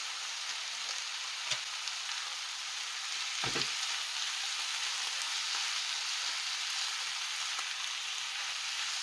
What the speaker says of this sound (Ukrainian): Грибочки гарно вже підсмажилися